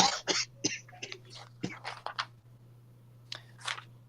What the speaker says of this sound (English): No, I was coughing